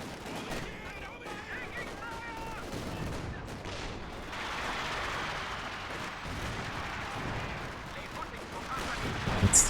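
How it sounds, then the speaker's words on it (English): Mortar pit barrage firing in a video game: a continuous rumble of distant artillery blasts and shell impacts rolls on through the whole stretch, with a commentator's voice over it. "Surprisingly, mortar pit still doing well. Next barrage is coming in."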